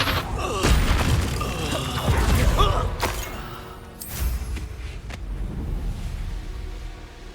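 A Confringo fire spell blasts in Hogwarts Legacy amid combat, with booming impacts, crackling debris and a couple of sharp hits through a dense, busy stretch of fighting.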